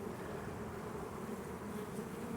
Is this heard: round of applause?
no